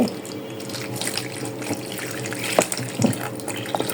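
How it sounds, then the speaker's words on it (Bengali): Milk is poured into a bowl while making a semai dessert, a steady close trickling and splashing stream that runs for a few seconds with no talk. "এখন এই বাটির ভিতরেই এই দুধটাকে ঢেলে দিতে হবে"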